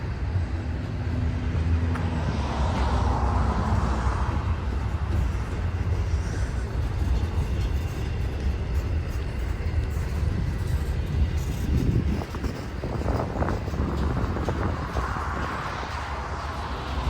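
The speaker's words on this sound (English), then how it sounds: "This one's gonna be a very slow train here" Slow Norfolk Southern intermodal freight train rolling past, a sustained low rumble with rattling wagons and some brief broadband clanks, heard outdoors at moderate distance.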